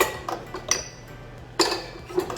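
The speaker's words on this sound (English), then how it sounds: "I just have a nice wooden spoon. I'm gonna stir it just a little bit." Vegan blueberry muffin batter stirred in a bowl with a wooden spoon, a few close knocks and clinks against the bowl with soft scraping between them.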